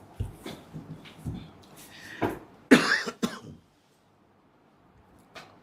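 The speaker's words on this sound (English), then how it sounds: "Why today I'm coughing like this?" A man coughing several times in quick, harsh bursts at close range, with throat clearing, the loudest coughs clustered near the middle, then quiet.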